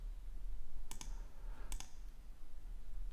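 Computer mouse clicks in animation software: two quick double-clicks about a second apart, close and crisp over faint room hiss, with no talking.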